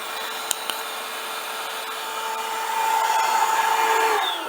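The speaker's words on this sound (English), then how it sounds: "That's the vacuum hooked to the fill jug or the full jug." A shop vacuum hooked to a coolant fill jug runs with a steady droning whine, pulling antifreeze during a coolant sensor change on a 7.3 diesel engine; the motor note rises slightly in pitch and loudness toward the end.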